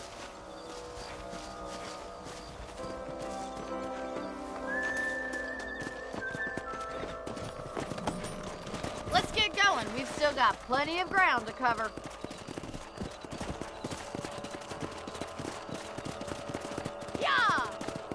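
Horse hooves clip-clop steadily on a trail in the Western video game Red Dead Redemption, a neigh rising in the mix, while characters talk over the ride and game music plays underneath.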